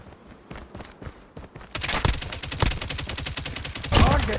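LK24 rifle fire in Call of Duty Mobile: a few sparse shots, then a rapid, loud sustained automatic burst with sharp repeated cracks, plus game sound effects.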